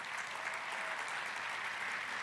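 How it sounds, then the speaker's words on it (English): Steady applause from a church audience during a Sunday morning service, a dense continuous wash of clapping held at an even level throughout with no voices over it. "Can you give me a round of applause for Peggy this morning?"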